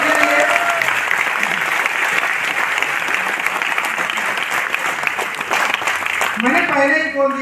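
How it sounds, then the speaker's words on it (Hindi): Loud, sustained applause from a seminar audience at a success celebration in Delhi, dense clapping filling the whole stretch with a few crowd voices mixed in and a brief tonal sound near the end. "एक बार जोरदार ताली चाहूंगा सबके लिए"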